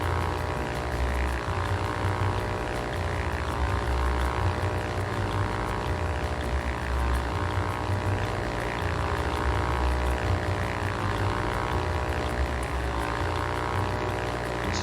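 Steady droning propeller engine of a small airplane in the VR flight game Ultrawings, constant and even throughout with no voices.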